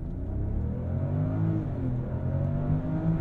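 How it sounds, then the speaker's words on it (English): A 2024 Range Rover Velar launching hard from a standstill after brake boosting, its engine note rising steadily and loud from inside the cabin, with no talking. "I am going to brake boost it off the line to see how we do"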